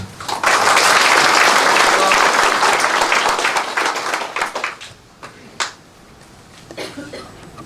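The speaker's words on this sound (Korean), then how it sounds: "여러분, 군수님께 힘찬 환영의 박수 주시기 바랍니다" A community meeting audience gives a loud, dense round of applause to welcome the county governor, holding strong for several seconds before breaking into scattered claps and dying away.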